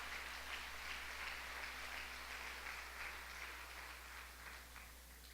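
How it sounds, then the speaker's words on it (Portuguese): A church congregation claps steadily at a worship service, a broad wash of applause lasting throughout at moderate level, a faint hum running underneath. "Pode dar outra salva de palmas para o Senhor Jesus."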